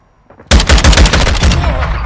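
Close, loud automatic gunfire from Call of Duty Modern Warfare II erupts after a brief quiet moment and continues as a dense, rapid burst of shots.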